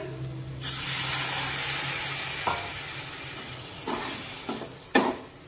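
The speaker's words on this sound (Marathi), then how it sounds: "आता या मसाल्यामध्ये आपण थोडंसं पाणी टाकूया।" Water poured into chicken curry masala in a hot kadhai sets off a loud, steady broadband sizzle, with a few sharp clinks or stirring knocks near the end.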